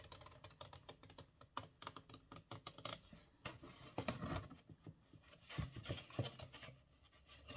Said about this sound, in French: je prends mon ciseau, je coupe sur le trait que je viens de faire